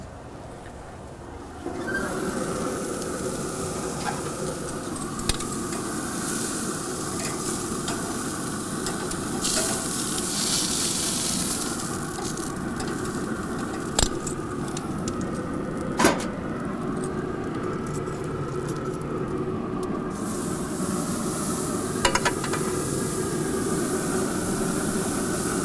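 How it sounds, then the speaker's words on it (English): Teres major steaks sear over the open flame of a Pit Boss grill, a loud, continuous sizzle with a broad hiss, broken now and then by sharp clicks and taps. "we're gonna open flame grill these Terrace Majors"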